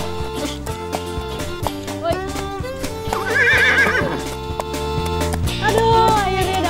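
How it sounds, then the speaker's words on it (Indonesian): Small Sandalwood horses, a breed native to Sumba island, whinny in the middle of the clip and again near the end, heard over loud continuous instrumental music. "Kuda sandal merupakan ras kuda asli Pulau Sumba."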